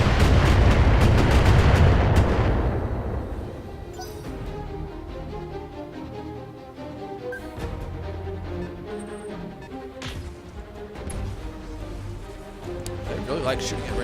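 Artillery strike explosions in the mech combat game Battletech: a heavy booming blast opens loud and rolls away, followed by scattered thuds and crackling impacts while voices talk over the battle.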